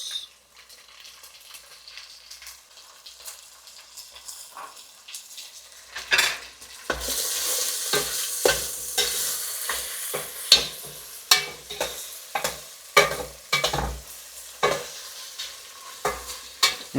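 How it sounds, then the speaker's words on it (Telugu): Tomatoes going into a pan of ginger garlic paste for kitchari, with sharp stirring clatters and spoon scrapes over a soft sizzle, close and fairly loud after a quiet start. "ఇంకా దీన్ని పచ్చి వాసన పోయేంత వరకు ఫ్రై చేసుకుందాం. సో ఇప్పుడు టమాటో అయితే వేస్తున్నా."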